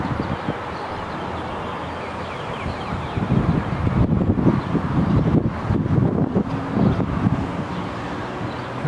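Wind blows hard, buffeting the microphone in rumbling gusts that grow stronger midway and then ease off again.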